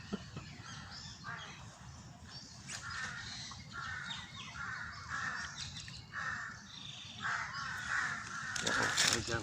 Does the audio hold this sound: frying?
no